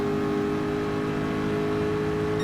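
Race car engines in Gran Turismo Sport, a sustained even engine drone at steady pitch with a faint whir, no voices.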